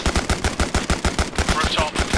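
Incoming automatic gunfire from the west, a rapid regular burst of about a dozen heavy shots in steady rhythm, loud and continuous, with faint voices underneath.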